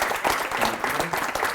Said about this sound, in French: On peut applaudir notre invité.